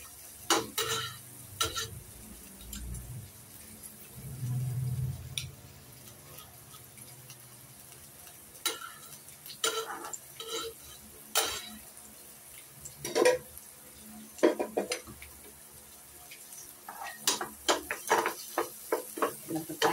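Garlic sautés in a pan for ginataang gulay while a utensil scrapes and stirs. The stirs come as irregular, sharp bursts over a quiet sizzle.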